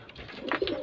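A short, soft coo from a plain pigeon, low and throaty, heard close by on its own against quiet background.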